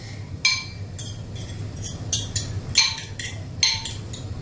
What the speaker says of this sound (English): What I'm going to do is I'm going to whisk the eggs first.